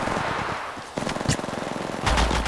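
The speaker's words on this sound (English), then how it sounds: "Shots fired at me." Bursts of automatic gunfire from a firefight in Apex Legends Mobile, loud and close, with short rattling volleys separated by brief gaps and a heavier burst near the end.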